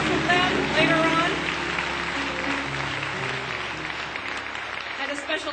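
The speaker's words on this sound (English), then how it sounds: "Ladies and gentlemen, please, a round of applause for Donnell Damon and a Royal Priesthood." Audience at a Martin Luther King celebration in a church sanctuary applauding, a dense continuous patter of many hands that starts strong and slowly thins, with a voice speaking over it.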